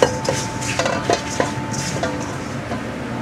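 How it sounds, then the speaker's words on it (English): Wahoo fillet stirred and tossed in panko breadcrumbs in a bowl, a few soft scraping and clinking strikes against the dish over a steady background hum, with no talking. "So then we go out of the egg and into the panko. And then we mix that up,"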